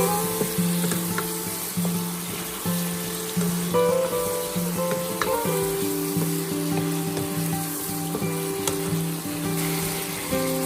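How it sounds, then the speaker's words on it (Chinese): Winter melon slices stir-fried with shrimp and garlic in a hot pan give a loud, continuous sizzle, broken by the occasional scrape and toss of stirring. "接着我们倒入冬瓜片翻炒均匀"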